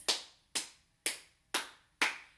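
Five crisp, close hand claps land at an even half-second pace, each ringing out briefly in a quiet room during a game of Simon Says.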